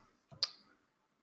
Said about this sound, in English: click for search